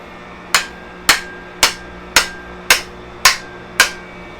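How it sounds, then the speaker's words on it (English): A hammer drives a pick axe head onto its wooden handle in seven loud, evenly spaced metallic whacks, each ringing briefly before the next, close and with no talk. "I'm going to give this thing a couple of whacks and see what it looks like"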